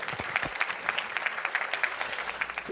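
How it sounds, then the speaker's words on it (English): Conference audience applauding after a regulatory presentation, a steady, moderately loud stretch of clapping lasting nearly three seconds, heard without speech. "Everybody, a round of applause for Dr. Throckmorton."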